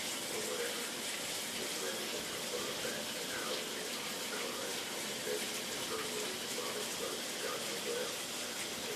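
Shower water runs in a steady, even hiss and spatter, close and unbroken throughout.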